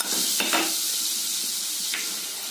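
White egg korma frying in a pan, a steady close sizzle with a few stirring scrapes early on and a brief stir near the end, no voices.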